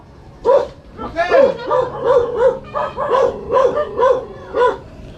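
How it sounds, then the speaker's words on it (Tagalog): A chained dog outdoors barks repeatedly and loudly, about ten sharp yelps in a steady rhythm close by, with voices nearby. "May aso!"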